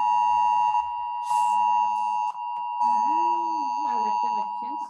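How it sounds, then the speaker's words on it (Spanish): An electronic alarm beeps as a steady, loud high tone held across the call audio, with brief breaks and a few faint voices speaking underneath. "no sé si les llegó una alarma en este mismo momento"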